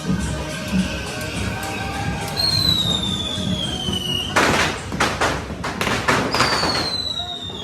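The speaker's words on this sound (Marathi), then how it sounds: "बघा कशा आतामध्ये फटाके फोडतात" Sharp firecracker bursts crack in a quick cluster, loud and close, over a steady background din, with whistling rockets rising shrilly before and after, at a Bahiridev immersion festival in Diwale Koliwada.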